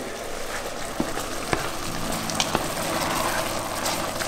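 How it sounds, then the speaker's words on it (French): Apple pieces caramelize in a pan with a constant low sizzle and bubbling, broken by a few sharp clicks and taps as they are stirred, steady and close throughout. "j'entends les pommes qui cuisent"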